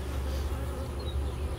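Bees at an open beehive during a hive inspection make a steady, dense, close buzz that does not let up, with no voices.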